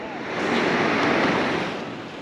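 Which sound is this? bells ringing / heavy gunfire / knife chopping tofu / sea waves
sea waves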